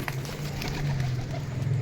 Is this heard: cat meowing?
no